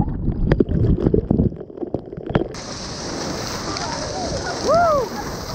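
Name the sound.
rain falling on a hike near a waterfall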